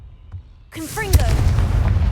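In Hogwarts Legacy, a Confringo blasting curse fires with a rising magical whoosh and tonal swoops, then bursts into a deep, rumbling explosion that rolls on to the end.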